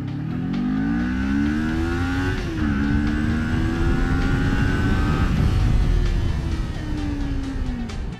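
A Kawasaki Ninja 400 motorcycle revs hard and accelerates from 0 to 100 km/h, its engine note climbing through several gear changes with brief dips between shifts, loud and close with wind roar building underneath.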